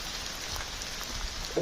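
Rain falling in a forest near Dobra by Bolesławiec, a steady close patter of drops on leaves and surfaces, continuous and fairly soft, with no voices.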